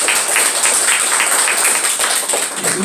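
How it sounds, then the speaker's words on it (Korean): A church congregation applauding in thanks during a service, a dense, steady patter of many hands clapping that fills the space evenly for a few seconds. "다시 한번 감사의 박수 좀 드립니다"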